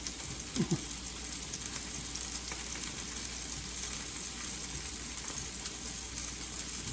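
Gravy sizzling in a pan while being gently stirred, a constant close crackling hiss that holds steady throughout with faint soft scraping underneath.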